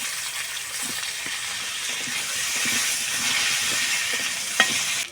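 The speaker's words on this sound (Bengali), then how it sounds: "এবার আমি এই তেলের মধ্যে কেটে রাখা আলুগুলো ভেজে নেব" Cut potatoes, four medium ones, frying in hot oil in a pan, giving a loud continuous sizzle and hiss with scattered crackles and the occasional stir, no voices.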